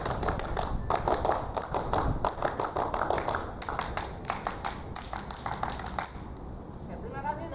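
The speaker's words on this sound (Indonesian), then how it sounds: "3 kali tepuk pramuka." A group of Pramuka scouts claps in a quick rhythmic pattern, sharp, close and loud, the bursts grouped in repeated sequences before stopping near the end.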